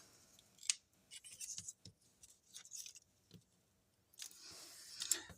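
Scissors snip through cardstock during card making, a series of short, close snips in irregular bursts with pauses between, then one quicker run of cuts near the end.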